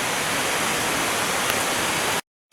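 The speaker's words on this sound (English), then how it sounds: "This is one of Katoomba's lesser known waterfalls." Ethel Waterfall near Katoomba in the Blue Mountains pours in a steady, loud, broad rushing hiss that continues without change, then cuts off abruptly just before the end.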